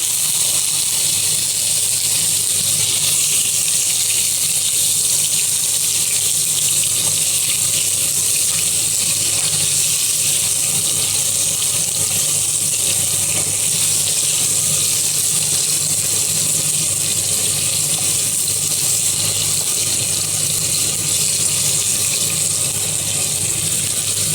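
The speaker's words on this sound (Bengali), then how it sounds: "তেলটা গরম হয়ে গেছে, এখন আমি এই চিকেনগুলো দিয়ে দিচ্ছি" Chicken gizzard and liver fry in hot oil with a loud, steady, close sizzle that hisses without a break throughout, no voices over it.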